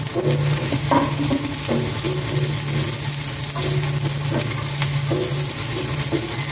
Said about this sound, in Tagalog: Gisa ko lang itong sibuyas.